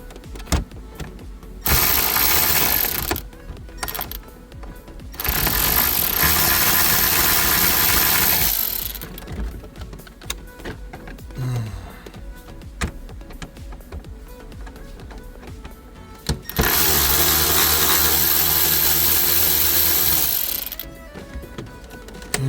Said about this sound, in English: You can see that's a T20 Torx bolt that needs to be taken apart before we can pull this out.